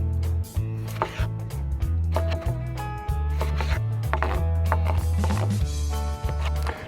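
Tomatoes are chopped on a wooden board with a knife, giving quick, close, rhythmic knocks in uneven bursts without speech.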